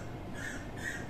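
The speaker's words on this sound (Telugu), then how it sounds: "మామిడి చెట్టు మీద పిట్టలు బాగా అరుస్తున్నాయి" Birds calling from a mango tree, two bright chirps standing out faintly above a steady background hiss, with no talking.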